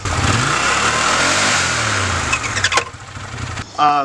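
Engine revving on throttle with a drive belt smacking, a loud continuous mid-range roar that swells and dips before a sharper burst near the end.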